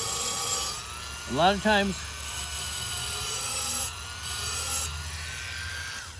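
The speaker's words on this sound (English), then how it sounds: "I run at very low speed with nice sharp sandpaper, new sharp sandpaper at low speed" A knife is sharpened on a sander run at low speed with fresh, sharp sandpaper, giving a steady grinding hiss that swells in short passes while someone speaks briefly over it.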